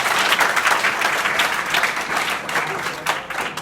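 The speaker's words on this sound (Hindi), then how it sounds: "एक जोरदार ताली बजाओ" Schoolchildren in a classroom at a village middle school clap together in a loud, sustained burst of applause lasting several seconds, dense and close, with a few voices mixed in.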